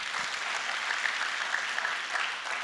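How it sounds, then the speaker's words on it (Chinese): Audience applause at a sales seminar hall, a steady wash of many hands clapping, fairly quiet and even, with no talk over it. "给我一个掌声先。"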